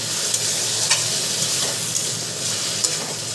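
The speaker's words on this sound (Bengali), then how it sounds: "এবারে ভালো করে বিনস আর গাজরটা ভাজবো।" Beans and carrots stir-fry in a pan for chire pulao, giving a loud, continuous sizzle with light, regular scrapes of a spatula stirring through, close up and free of any talk.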